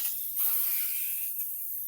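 An airbrush gun being cleaned sprays out leftover water in a steady, close, airy hiss, with a stronger burst near the start and another near the end, and no voices.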